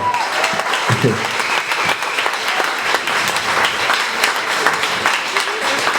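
An audience claps after a bit at a stand-up comedy show in the Hipnoza club. The applause is dense, close and continuous, with a few voices and shouts briefly audible near the start.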